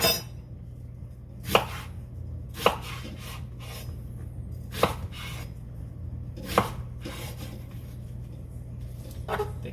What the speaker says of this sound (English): Do a little bit of a dicing, thick dicing.